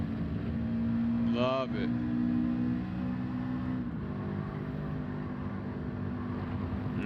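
A boxer-engine car climbs uphill in Gran Turismo 7, its steady droning engine note running throughout, with a brief rising whine and a short spoken remark over it.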